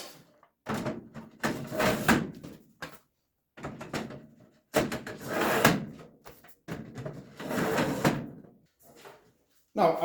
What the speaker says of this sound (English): Let's install one by one the drawers.